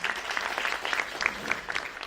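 Audience applause at a programme feedback presentation, a short burst of dense steady clapping from a seated crowd with a few sharper individual claps.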